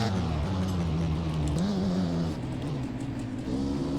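A GasGas MC 250 two-stroke dirt bike engine in the MX Bikes game at Waterfall MX Park drones loudly and continuously, its pitch rising and falling with throttle changes.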